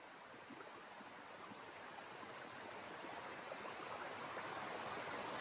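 A waterfall in a field at Mandangad, Maharashtra, pours as a steady broadband rush of water, continuous and even, heard from some distance with no voices.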